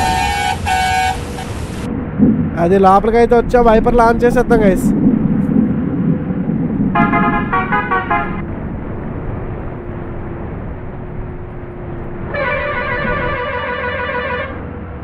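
Bus horns in Bus Simulator Indonesia blare in several distinct tones, from long steady blasts to warbling musical melodies, over continuous engine rumble while someone talks.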